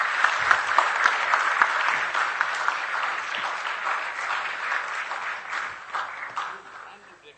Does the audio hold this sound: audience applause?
yes